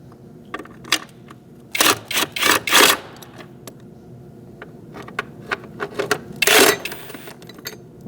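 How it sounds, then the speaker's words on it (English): A 13mm socket on a long extension works the battery hold-down bolts of a 2008-2014 Mercedes-Benz C300, giving short bursts of clicking and metallic rattling with brief pauses between them, close and moderately loud. "Using a 13mm socket with a long extension, we're going to take out these two bolts."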